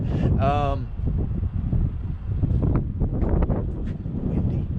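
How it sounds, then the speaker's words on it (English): Wind buffets a microphone with low rumbling gusts, and a brief whistle-like tone sounds at the start, with speech faintly mixed in. "and it's windy"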